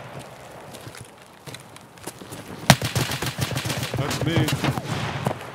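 Gunfire in a video game shooter crackles in scattered bursts of sharp shots, with one loud crack midway and then rapid clattering fire, while a voice speaks briefly.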